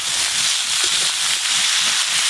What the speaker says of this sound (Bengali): একটু নেড়েই জল ঢেলে দেবো।